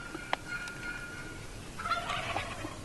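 Merriam wild turkey gobblers in Wyoming let out two rattling gobbles, one brief and one longer, at moderate distance over a steady outdoor background hiss, no voices present.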